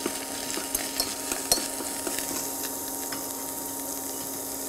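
Meat stir-frying in a pan with butter and garlic: a soft steady sizzle under occasional clicks and taps of a utensil scraping and stirring, close and fairly quiet with no talking.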